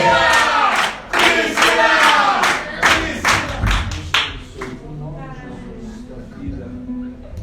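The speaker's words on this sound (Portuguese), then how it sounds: "Aplauda forte o nome do Senhor." A church congregation claps and cheers loudly for a few seconds during a service, the noise thinning as a speaking voice takes over amid lingering crowd murmur.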